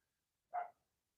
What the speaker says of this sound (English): you might hear my dogs barking in the background